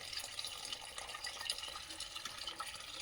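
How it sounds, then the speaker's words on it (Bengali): Water from a hose pipe splashing steadily onto the base of flowering tagar plants in a garden, a continuous hissing spatter with no voices. "একদম পাইপ খাটিয়ে জল দেওয়া হচ্ছে ফুল গাছে।"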